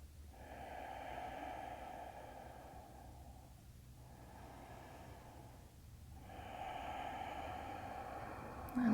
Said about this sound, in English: 2 full breaths.